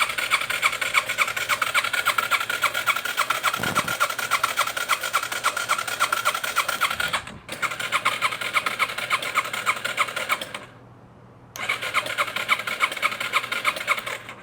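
A Yamaha TTR 230 dirt bike engine, long abandoned, cranks repeatedly with a rapid mechanical churning, pausing briefly twice, but never catches and runs.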